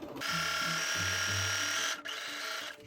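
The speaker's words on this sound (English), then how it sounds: "continue stitching the length of the placket" Electric sewing machine running a continuous line of stitching along a dress placket, a steady close whirring hum of the motor that stops briefly before starting again.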